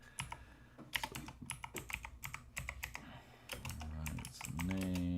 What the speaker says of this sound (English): typing this out up here first.